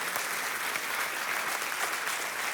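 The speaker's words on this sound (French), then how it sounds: "applaudissez bien fort le roi des rois" A church congregation applauds loudly, many hands merging into a thick, continuous roar of clapping that holds steady throughout.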